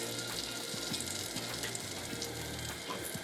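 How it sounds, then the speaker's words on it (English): Honey-glazed sauce bubbles and simmers in a pan on the stove, a soft continuous hiss and sizzle with faint popping and gurgling, quiet and close, with no talking. "you see it bubbling and simmering there in our pan"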